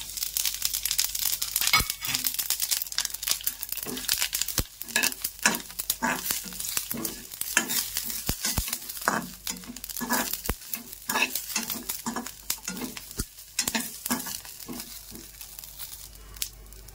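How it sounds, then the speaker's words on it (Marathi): Garam masala roasting in hot oil in a pan for a village-style egg curry, a crackling sizzle broken by repeated rhythmic scrapes of a spatula stirring, close and without voices. "आता याच्यात आपण थोडासा गरम मसाला भाजून घेऊ"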